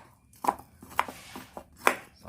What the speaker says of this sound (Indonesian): perlahan kita aduk